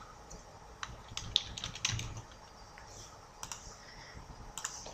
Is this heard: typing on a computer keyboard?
yes